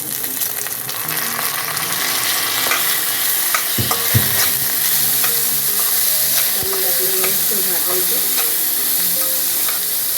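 Rice roasts in a pan with cardamom and cinnamon for coconut rice, giving a continuous dry sizzling hiss broken by several scraping and knocking stirs of a spoon, with no talking.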